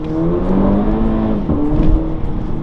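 A car engine roars loudly and steadily close by, its pitch climbing and dipping as it revs hard.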